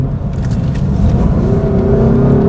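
A 2017 Lexus IS 350 F Sport's engine in Sport Plus mode, heard from inside the cabin as a loud, steady, deep drone that climbs slightly in pitch over a couple of seconds.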